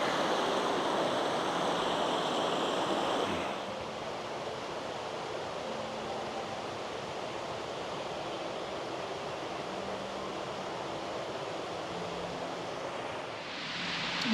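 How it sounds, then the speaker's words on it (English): Small waterfall in a national park heard through trees: a steady broadband rush of falling water, moderately distant and even in level throughout, with a slight change in tone partway through, and no talking. "As you can hear the falls in the background there,"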